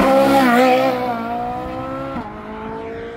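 A Ferrari Roma sports car accelerates hard at a supercar meeting, a loud, close engine roar rising in pitch and then dropping back as it shifts and pulls away.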